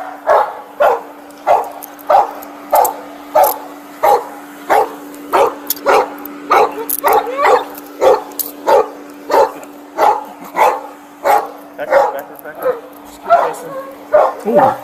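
Police dog barks in rapid repeated bursts at an arrest scene, loud and close, nearly twenty evenly spaced barks with some yips over a steady hum, and people talk at times.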